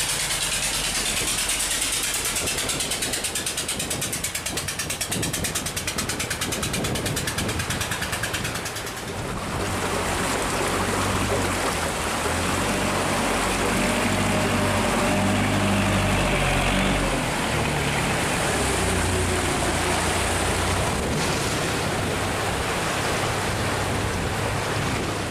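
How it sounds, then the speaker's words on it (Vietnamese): Wooden riverboat motoring downstream through a river sluice gate, its engine a steady low drone with a continuous hiss of water and wind running throughout, fairly loud and close with no voices. "có một chiếc ghe gỗ đang đi xuôi dòng và qua cửa cống các bạn"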